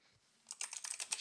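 Quick run of about ten crisp keystrokes on a computer keyboard as a command is typed, close and faint, starting after a brief quiet pause.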